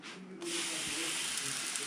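Water hisses and sizzles into steam on a hot pan, a sudden loud spray-like hiss that starts early and continues steadily, close and without talking.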